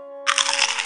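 Cartoon crunching sound effect, a single short burst of crackly crunch lasting under a second, loud and close with nothing else around it.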